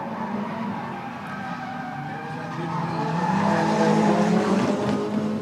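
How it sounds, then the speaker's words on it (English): Nissan S13 and S14 drift cars with SR20 engines at a street-class drifting competition, engines revving hard with skidding tire squeal building louder toward the end, no talk. "Sounds like both cars are SR20."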